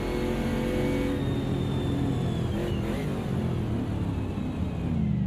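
Race car engine in a sim racing game at Kyalami, a steady buzzing drone that eases as the driver lifts off the throttle, moderately loud and continuous without speech.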